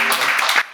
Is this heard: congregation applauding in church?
yes